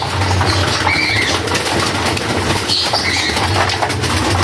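Pigeons at feeding flap their wings in a dense, continuous fluttering close by, with occasional soft coos and scuffles blended into a loud, steady din.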